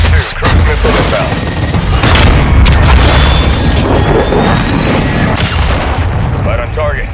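A cruise missile explosion in the video game Modern Warfare 2, a loud sustained rumbling blast with crackling debris and distant gunfire, dense and booming, with brief voice chatter mixed in.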